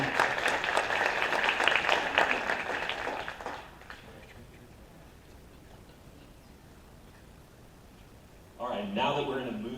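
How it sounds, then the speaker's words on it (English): Applause from the audience at a morning candidate forum in Arvada, a broad clapping wash for the first few seconds that fades out, then a speaker's voice comes in near the end. "Let's give them a round of applause."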